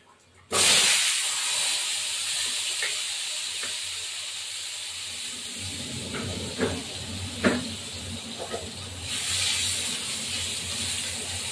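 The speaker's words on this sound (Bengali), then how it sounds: "আলুগুলো একটু ভাজা হোক" Potatoes sizzle and hiss in a hot pan while a fish-bone chorchori is cooked, a loud steady frying hiss with a few scrapes and clinks of stirring partway through.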